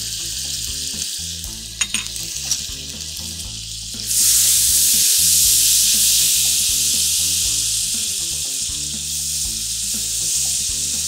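Orange peel sizzling in a hot pan for crêpe Suzette at the Ritz London, with a few stirring knocks early, then a loud, steady, close frying hiss that holds to the end.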